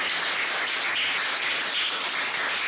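Steady applause from a Model United Nations audience in Punjab clapping for themselves, a dense, even wash of many hands sustained throughout at moderate loudness with no voices on top.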